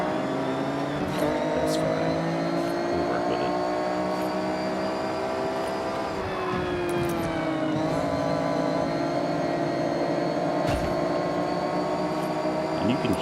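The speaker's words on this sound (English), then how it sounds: "hear the car" Race car engine in Forza Horizon 6, a loud sustained tonal whine that holds steady, dips briefly as it shifts, then climbs again, with a voice speaking over it.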